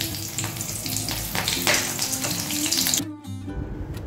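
Small dried red chilli and green chillies frying in hot oil in a pan for a home-cooked cream chicken, a steady close sizzle that cuts out sharply near the end.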